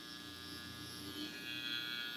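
An electric hair clipper trims around a customer's ear in a barbershop, giving a steady, fairly quiet buzzing drone that holds without pause throughout.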